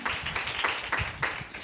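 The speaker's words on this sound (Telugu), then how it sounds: "చప్పట్లు కొట్టండి బిగ్గరగా, చప్పట్లు కొట్టాలి బిగ్గరగా" A church congregation clapping loudly in steady rhythmic claps at a Telugu sermon, a dense, continuous crowd sound with no voice over it.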